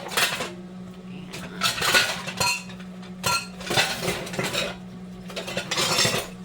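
Kitchen prep clatter of a cutting board and large knife being handled, with hard knocks and clinks of utensils and dishes arriving in several bursts, close and fairly loud, with no talking.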